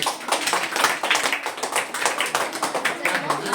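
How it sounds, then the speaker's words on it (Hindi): Children in a school classroom clap together for a pupil, a steady patter of many hands filling the room, loud and continuous with a teacher's voice mixed in. "जोरदार ताली बच्चे की।"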